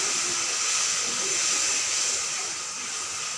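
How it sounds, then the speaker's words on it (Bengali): Water hits a hot pan of hilsa and aubergine mustard curry and sizzles, giving a loud, steady hiss that carries on alone. "এবারে জল দিয়ে দেব।"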